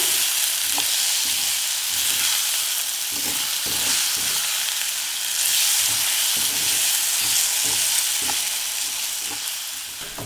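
Eggs for a scrambled egg bhurji frying in a pan, with a steady loud sizzle throughout and repeated soft scraping strokes as they are stirred slowly.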